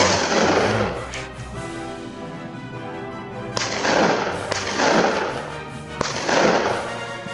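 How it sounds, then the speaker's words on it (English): Several sharp gunshots fired at a wild boar on a Texas farm, loud and spaced a few seconds apart, each followed by a long rolling echo. "A gunshot echoed through the valley, but the boar kept running."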